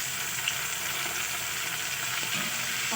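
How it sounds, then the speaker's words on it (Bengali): Chopped tomato and onion stir-fried in a pan for baigan bharta make a continuous, even sizzle at close range, with faint stirring underneath and no talking. "টমেটো কুচি পেঁয়াজ একটু নাড়াচাড়া করে নেব।"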